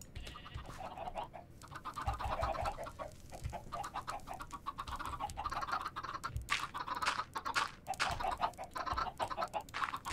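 A large crowd of chickens clucks and squawks continuously on a farm, overlapping busy calls with rhythmic low thumps beneath, fairly faint and without speech.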